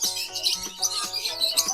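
Birds in an aviary at a pet sanctuary near Bangalore chirp and tweet in quick overlapping bursts, fairly close, over a low background hum.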